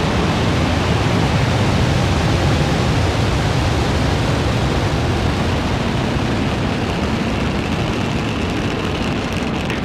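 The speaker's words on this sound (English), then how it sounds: "Ignition, engines full power, and liftoff. Go Falcon, go Starlink." A SpaceX Falcon 9 rocket lifting off on a Starlink Group 10-12 launch gives a loud, continuous broadband roar that holds steady throughout, with no voices.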